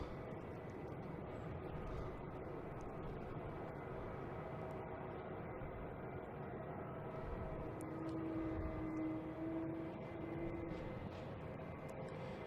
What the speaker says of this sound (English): So JetBlue's taken off.